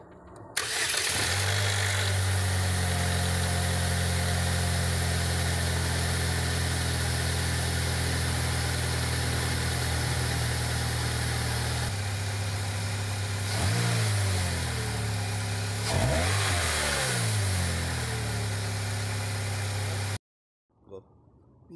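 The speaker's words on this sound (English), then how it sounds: "We're gonna start the car now" A 2005 Pontiac Sunfire with a hard-morning-start fuel problem cranks and catches, then idles steadily with a low hum, with a couple of revs partway through before the engine is cut off.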